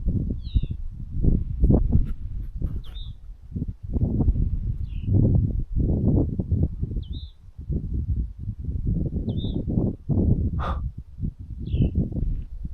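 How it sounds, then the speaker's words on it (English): A bird sings a varied series of short chirps and calls outdoors during a potato harvest, spaced out over strong low wind rumble and rustling. "Yeah, that bird. What kind of bird is it?"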